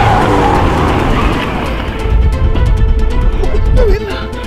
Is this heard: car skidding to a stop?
yes